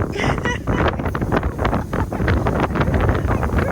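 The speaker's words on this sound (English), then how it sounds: "It's so windy, my glasses are getting blown off." Strong mountain wind on the Roan Highlands trail buffets the microphone in loud continuous rumbling gusts, with a voice speaking through it.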